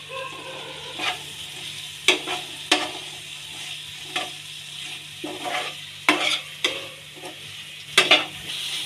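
A spoon stirs spice powders into a chilli mixture in a pan. There are repeated sharp scraping clicks at irregular intervals over a soft, steady sizzle.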